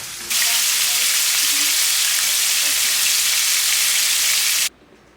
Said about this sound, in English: we got those walleye fillets cut into pieces, and we're frying them up now